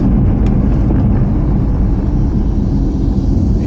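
A BMW M3 F80 engine roars loud and steady at close range, a dense low rumble with no clear breaks and a couple of faint high ticks, no talk.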